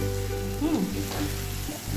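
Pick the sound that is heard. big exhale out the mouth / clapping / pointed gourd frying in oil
pointed gourd frying in oil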